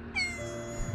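A rescued cat with burns lets out one short, clear meow that rises and falls, close and fairly quiet.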